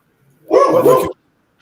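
A dog lets out a single loud, close bark, a short two-pulse burst lasting about half a second, set against otherwise near silence.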